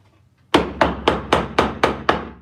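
A hammer strikes a nail seven times in a steady, evenly spaced rhythm. The blows are sharp, close and loud, following a brief quiet moment.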